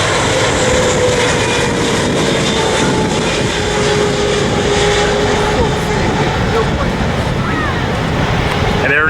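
Cathay Pacific jet airliner landing at LAX, a sustained loud engine roar with a faint whining tone sliding through it, a voice speaking briefly over the noise.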